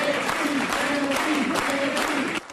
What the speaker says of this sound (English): Breaking news in San Francisco to thunderous applause and chants of Nancy